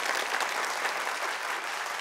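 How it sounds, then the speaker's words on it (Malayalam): An audience at a comedy show bursts into applause, a bright, even roar of clapping that stays steady and fills the whole moment. "ഉഗ്രൻ കയ്യടി"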